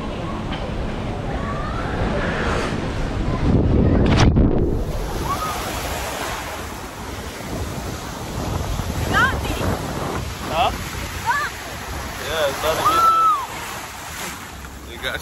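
Ocean waves crash and surge off the Puerto Rico coast, loud and close with heavy wind buffeting the microphone, a big surge peaking midway while people call out faintly in the background.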